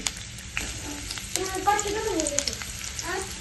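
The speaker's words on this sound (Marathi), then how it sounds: "आता कांदा फ्राय करून घेते अगोदर" Chopped onions frying in oil in a home kitchen pan, a soft continuous sizzle with occasional stirring scrapes, close and quiet, with a voice briefly speaking over it.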